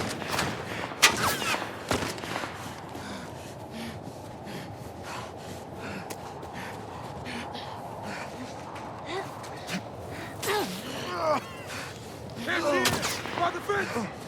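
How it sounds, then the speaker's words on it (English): Gunfire in the video game The Last of Us, a few sharp bursts of shots near the start and more clustered cracks toward the end over a low ambient bed, with breathy game voices mixed in. "We heard gunshots."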